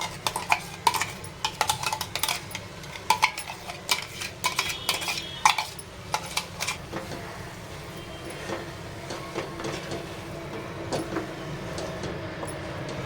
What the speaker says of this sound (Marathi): आता हे मिश्रण छान असं एकजीव होईस तोपर्यंत आपल्याला इथे हलवून घ्यायचं आहे।